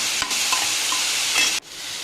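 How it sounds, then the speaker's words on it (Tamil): Tomatoes for an ivy gourd kurma sauté in hot oil, giving a loud, close, continuous sizzle with light stirring that cuts off abruptly near the end. "தக்காளி நல்லா வதக்கிடுங்க"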